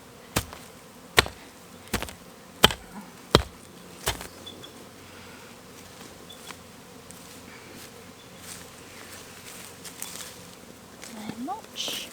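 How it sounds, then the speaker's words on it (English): Bees buzzing in an Australian spring garden, a faint steady insect drone under regular sharp chopping knocks early on, with a voice rising near the end. "I reckon the bees are that busy because they know there's rain coming again and it's their only opportunity."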